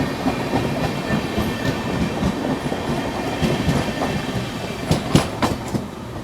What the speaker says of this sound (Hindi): लो शकूर बस्ती धनबाद स्पेशल ओवरटेक मार के यहाँ पर पैरेलल अपन को निकल गई आगे